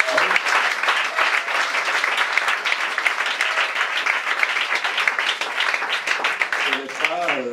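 A church congregation claps loudly to acclaim God, sustained dense applause filling the room from start to finish, close and steady, with voices mixed in beneath.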